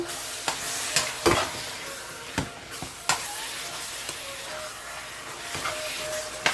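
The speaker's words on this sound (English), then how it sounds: "I'm going to give this a stir." Island-style venison curry stew sautéing in a pot and being stirred: a steady broadband sizzle, broken by several sharp spoon scrapes and knocks against the pot at irregular intervals, close and moderately loud, with no talking.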